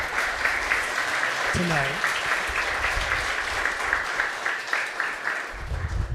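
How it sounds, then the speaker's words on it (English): Applause for parent volunteers at a school district board of trustees meeting, a steady wash of clapping from the room, with a short spoken question partway through and a voice near the end. "can we please have another round of applause for all of our parent volunteers"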